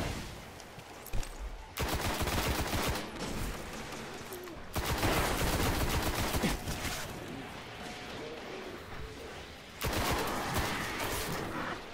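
Sustained automatic gunfire in the Destiny video game, long dense bursts of rapid shots separated by short pauses, loud and continuous.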